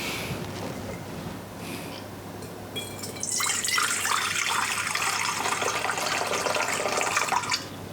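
Water pours steadily into a bowl for German Semmeln bread roll dough, a close, continuous splashing stream that starts after a few quiet seconds of faint drips.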